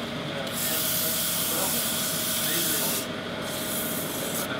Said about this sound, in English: This is 180 grit that I'm using.